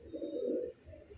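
Malwai pigeons cooing up close in Delhi, one soft throaty coo rolling for about half a second before a quieter trailing murmur, with no talk.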